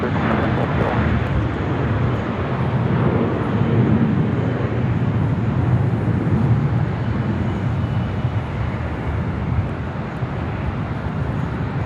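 A jet airliner roars down runway 24 left at Los Angeles International Airport on its takeoff run, a loud, broad, steady rumble filling the whole span with no pause.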